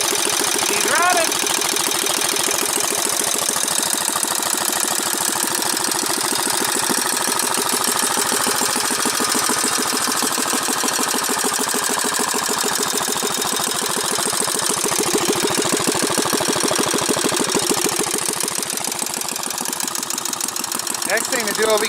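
A Manco engine, under restoration, idles steadily after a cold start with a continuous rough mechanical chugging throughout.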